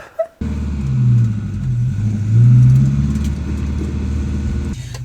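A Volvo 240 with a redblock engine starts after a brief click, then settles into a low, steady rumble that swells as the engine is revved midway before easing back; recorded close, with no talking.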